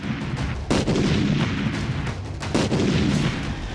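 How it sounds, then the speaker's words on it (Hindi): Artillery fire across the India-Pakistan border: several heavy booming blasts arrive in irregular succession, loud and reverberant, rolling over a constant rumbling background with no talk. "धमाकों की यह आवाज युद्ध विराम से चंद मिनट पहले पाकिस्तान को दहला रही थी।"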